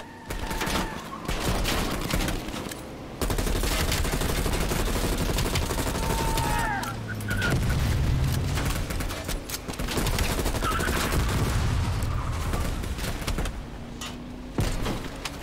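Dense, continuous gunfire with rapid bursts and sharp sniper cracks fills a Black Ops Cold War campaign firefight, loud and near throughout, with brief mechanical clanks in between and no talk over it.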